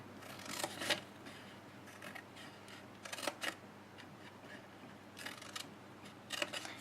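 Scissors cutting through scored cardstock while making a scallop-trim treat box, several short bursts of crisp snipping separated by quieter pauses, close up and without speech.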